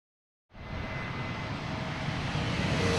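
Airplane taking off at DCA airport: a steady broad engine roar swells in after silence and holds loud and continuous, building slightly as the aircraft powers up.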